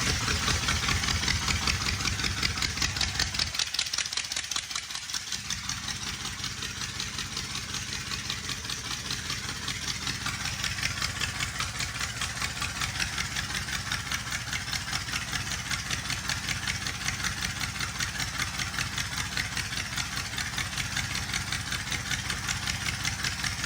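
A 1928 Ford Model A rat rod's engine idles close by with a steady, rapid, lumpy chug, and its tone shifts briefly early on before it settles back into the same even rhythm.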